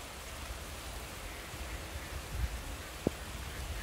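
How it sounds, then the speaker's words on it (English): Steady rain falls as a soft, even hiss outdoors, with a faint low rumble and one brief knock partway through, and no voices. "Started raining over here"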